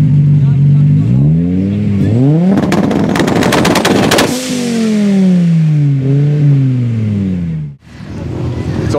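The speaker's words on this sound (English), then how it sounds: "I can hear they're already racing" Race cars tear along at a street racing event, engines roaring loud and near with rising and falling gear changes and a rapid crackling burst mid-run, then another pass revving up.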